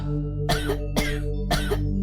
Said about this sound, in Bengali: কাশতে কাশতে ম্যাসনের গলা প্রায় চিড়ে গেল